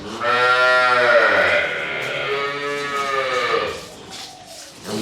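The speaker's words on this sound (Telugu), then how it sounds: "ఇది రాటి ఆవు." A Rathi cow on a dairy farm moos loudly and close, one long drawn-out low call that rises and then trails off, with faint farm background behind it.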